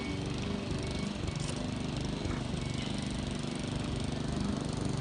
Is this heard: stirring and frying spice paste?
no